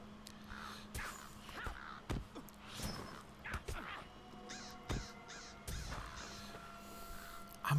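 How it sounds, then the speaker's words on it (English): Harsh caws from a crow in a video game repeat at irregular intervals over a low, steady background, mixed with sharp clicks and thumps, all fairly faint with no talking. "Darn it, crow."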